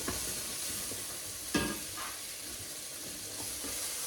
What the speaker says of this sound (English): Got 2 cloves of garlic in there. Pop that in and just stir it in quickly.